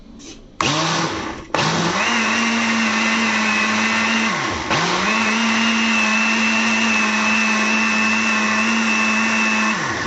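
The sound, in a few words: blender mixing batter for Algerian baghrir crepes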